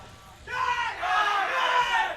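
A team cheers at a DOTA 2 tournament, a sudden sustained burst of shouting voices that rises and holds for about two seconds.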